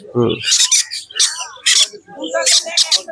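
Young conure parrot chicks, about a month old, call at a Naihati bird market with sharp, high, repeated chirping cries in quick bursts, close and loud, mixed with other birds.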